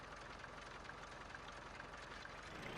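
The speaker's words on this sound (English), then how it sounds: "Incoming tractor at 40 miles an hour" A tractor engine from the farming game Farming Simulator 15 drones steadily in a low, even rumble with constant loudness and no talking over it.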